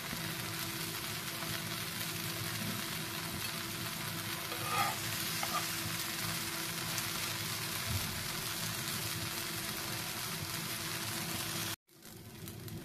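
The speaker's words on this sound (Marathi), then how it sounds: "आता दुसरी बाजूही थोडीशी शेकवून घेऊया. अगदी भोवती थोडंसं तेल सोडते." Steady, close sizzling of a horse gram uthappam frying in oil on a pan, with faint stirring or scraping partway through and a brief cut near the end.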